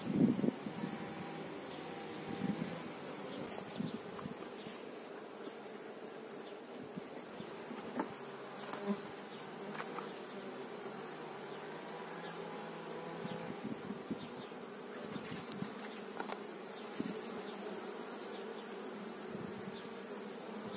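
Honey bees buzzing in a steady, dense drone around an open hive while an artificial swarm is made in July, constant and fairly near, with occasional light rustles and knocks.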